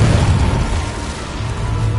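A fire spell cast in the Hogwarts Legacy video game, a loud, sustained fiery rumbling burst with a heavy low boom that holds steady for about two seconds.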